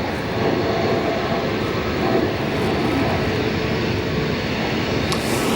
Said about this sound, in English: It appears we've got our Lufthansa arrival down on the south side, arriving on runway 28 center.